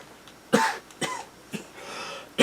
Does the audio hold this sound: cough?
yes